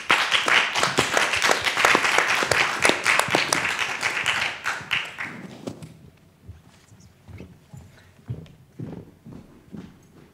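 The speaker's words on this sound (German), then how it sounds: "Ein Applaus für Lisa, bitte" Audience at a literary reading gives a burst of dense clapping that lasts about five seconds, then thins out into a few scattered claps and faint room noise.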